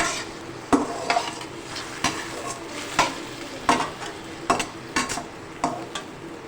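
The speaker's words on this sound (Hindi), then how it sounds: "अब हम इन तीनों चीज़ों को डाल के फ्राई करते हैं" Chopped fresh ginger and spices fry in a pan for an eggplant garlic gravy, a soft sizzle broken by about a dozen sharp spoon knocks and scrapes against the pan, close and without speech.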